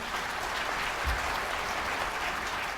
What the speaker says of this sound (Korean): 백낙천 교수님의 축하 인사를 따뜻한 박수로 들어보도록 하겠습니다